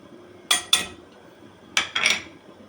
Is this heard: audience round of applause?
no